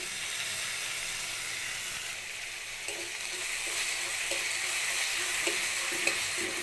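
Tomato frying with bottle gourd and potato in a pan, a continuous bright sizzle and hiss with occasional soft knocks of stirring, steady and close, nobody speaking.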